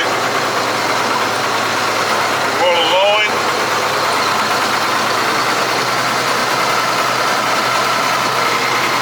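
A Ford TW25 tractor engine runs steadily under autosteer in a field, a continuous low mechanical drone that stays level throughout, with a brief spoken phrase over it near the start.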